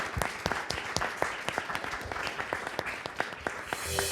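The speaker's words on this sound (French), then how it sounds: "On peut chaleureusement applaudir." A crowd applauds steadily, many hands clapping in a dense, even patter that carries on throughout, with no talking over it.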